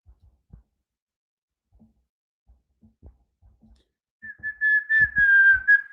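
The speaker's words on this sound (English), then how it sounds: "So y'all don't like when I whistle." A man whistles a steady sustained tone, clear and close, after a few seconds of quiet soft clicks and faint handling noises.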